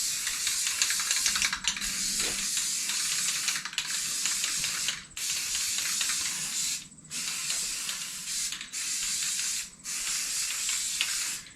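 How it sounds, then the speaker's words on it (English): Short bursts of hissing yellow aerosol spray paint, repeated several times with brief pauses between, close and fairly loud. "I just kind of spray a circle around that"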